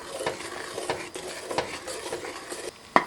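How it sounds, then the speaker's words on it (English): A utensil scrapes and knocks around a pot as caramel corn mixture is stirred over high heat, rhythmic close strokes over a soft sizzle, ending with a sharp clack. "we're going to keep stirring until it comes to a boil"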